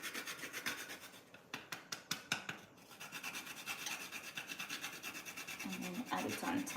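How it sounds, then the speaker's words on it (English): Nutmeg rubbed against a small grater over almond and green banana porridge, close, quiet rhythmic rasping strokes in quick repeated bursts. "top it off with some nutmeg. So you just use the secret grater thingy"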